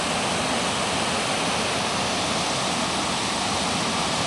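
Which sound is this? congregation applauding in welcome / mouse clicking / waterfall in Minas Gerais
waterfall in Minas Gerais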